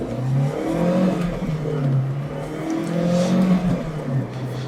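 Race car in a racing video game, engine notes falling and rising as it brakes hard for a corner, sustained loud engine whine with pitch sweeps and no talk.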